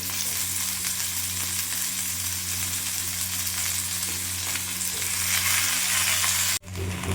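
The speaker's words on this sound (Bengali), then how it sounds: "তো পুরোটা ভাজা ভাজা করতে থাকি" Steady, loud sizzling of vegetables with ginger-garlic paste frying in a pan, close up and unbroken, cutting off abruptly near the end; nobody speaks.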